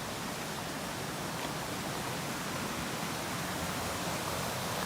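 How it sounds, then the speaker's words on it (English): Small waterfall in the Boundary Waters wilderness, a steady broadband rush of falling water, even and continuous, heard alone without voices. "Here's the waterfall."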